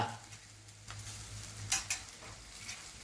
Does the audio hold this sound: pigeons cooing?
no